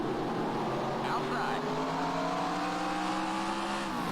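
Modified race car engine in NR 2003 at Riverside Park Speedway, a loud steady drone with harmonics sliding up and down as the car shifts through gears and laps, continuous throughout.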